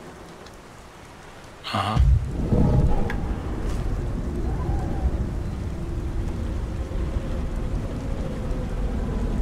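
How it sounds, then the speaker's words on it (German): Steady rain falling in the video game Beyond Two Souls, a dense continuous hiss that swells in after a brief sharp sound at about two seconds and holds at moderate loudness, with a brief murmured voice. "Gottverdammter Regen."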